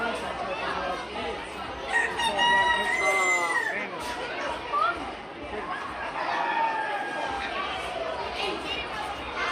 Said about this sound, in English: Could this be the world's largest rooster?